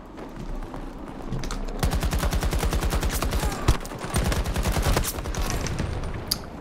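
Automatic weapon fire in Battlefield 2042: a loud, sustained rapid-fire burst of evenly spaced shots running for several seconds, preceded and followed by battlefield background noise.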